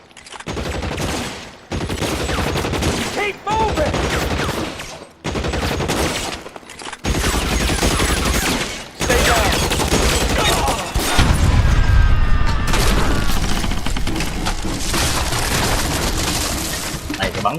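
Heavy gunfire from a shootout in the video game L.A. Noire, with rapid volleys and bursts coming in dense, repeated waves over about seventeen seconds, loud and close, with voices talking over parts of it.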